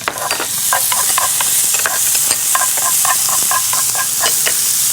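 Cut kimchi stir-fries in a little cooking oil in a pan, a loud close sizzle with brisk rhythmic scraping and tossing of the spatula throughout, no voices.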